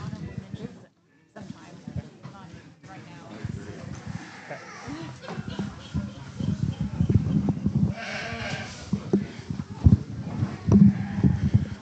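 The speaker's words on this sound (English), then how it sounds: "The young man brings us a sheep that balances up extremely well" Sheep bleat intermittently in a livestock show ring, mixed with crowd murmur and shuffling, while a voice talks over much of it.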